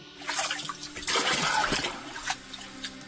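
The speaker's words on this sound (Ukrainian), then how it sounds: "Воду часом доводиться вигрібати відрами." Buckets scoop water out of an icy, muddy frontline trench in winter, giving short sloshing splashes and pours close by, with trickling between scoops.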